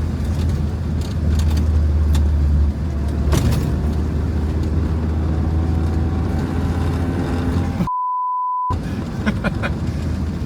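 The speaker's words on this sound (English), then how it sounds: "I'm going to get driving." A car drives over a choppy, rough old road in Stalin's hometown, giving a steady, loud engine-and-tyre rumble throughout, briefly interrupted near the end by a sharp electronic beep tone.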